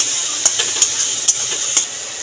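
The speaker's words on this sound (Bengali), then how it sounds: "দিয়ে মশলাটাকে ভালো করে কষিয়ে নেব।" Spice paste for a Bengali maan kochu and prawn curry being fried and stirred in a pan: steady close sizzle with four sharp spoon scrapes spaced roughly evenly, no talking.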